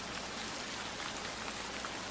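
Heavy rain pours down steadily, a dense, continuous hiss of drops with no pauses and no voices.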